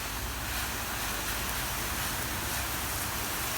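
Water sprays steadily to rinse soap off a car hood, a continuous even hiss of spray without breaks, fairly close and moderate in level.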